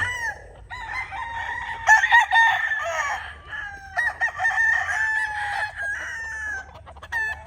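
A red Gilmore Cross rooster with a straight comb crows in the early morning, giving several loud, drawn-out calls close by with brief pauses between them and no voices.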